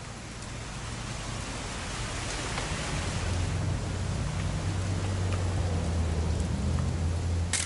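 Steady rain falling in the video game What Remains of Edith Finch, a constant hiss of drops with a low hum underneath, growing slightly louder and filling the whole stretch without talk.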